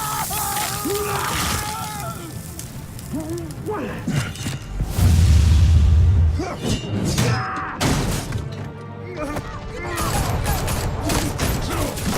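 Bursts of gunfire, crashes and shattering in a fight scene in the video game Batman: The Telltale Series, loud and close, with a sharp impact in the middle and voices shouting between the shots.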